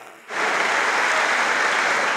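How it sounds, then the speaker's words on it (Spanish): A congregation at a Christian worship service in the Dominican Republic bursts into sustained, dense applause that starts abruptly and stays loud and steady throughout. "Denle un fuerte aplauso al Cristo de la gloria"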